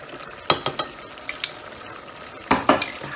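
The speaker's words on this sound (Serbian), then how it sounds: "Tako, to opet malo promješamo." A wooden spoon stirs onions frying in a pot as the base for a green bean (buranija) dish, with several sharp scraping strokes in two bursts over a soft steady sizzle.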